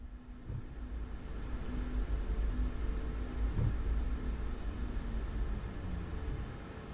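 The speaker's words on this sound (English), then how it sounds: "Love those tire rubbing sounds." Tires of a Boeing 737 MAX 8 rolling on the runway in a flight simulator game: a steady, broad low rumble with faint thumps, continuous and fairly even in level.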